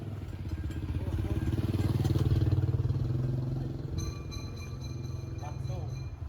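Motorcycles ride through a narrow lane in Kuta, where pedestrians also crowd the way. A steady, rumbling engine drone swells and fades under continuous nearby talking.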